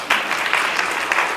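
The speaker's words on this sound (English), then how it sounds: "Within 8 years, you big round of applause" Audience at a charity standup fundraiser breaking into a dense, steady round of applause, loud and continuous throughout the short stretch.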